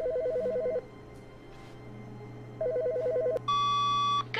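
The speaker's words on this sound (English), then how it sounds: "The phone." A telephone rings in the video game The Stanley Parable: Ultra Deluxe: two loud bursts of a rapid electronic trill separated by a pause, then a sharp click and a steady high tone. Under it runs a constant low hum.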